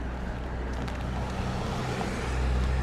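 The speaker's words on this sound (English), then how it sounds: "Oh my god, that's a loud car." Loud car passing close by on a street, a steady broad engine and road roar that swells slightly near the end, with no talking over it.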